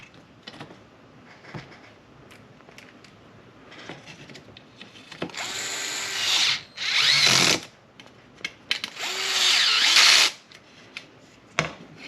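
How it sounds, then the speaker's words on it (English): A DeWalt cordless drill on clutch setting 4 whirs in two loud bursts of a few seconds each, close by, with quieter tool clicks and handling noises between, during a sprint car model build. "I'm using a DeWalt cordless drill."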